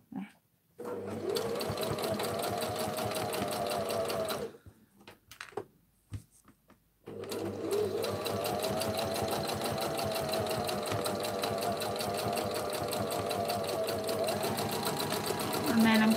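Sewing machine stitching fabric for a purse, a fast steady mechanical whir running for several seconds, pausing briefly with a few clicks and handling sounds, then resuming at an even pace.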